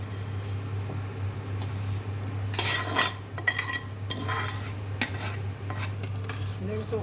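Roasted vermicelli poured slowly into boiling sugar syrup and stirred with a metal spoon against a pan for sweet zarda; repeated scraping and clinking strokes over a steady low hum, close and moderately loud.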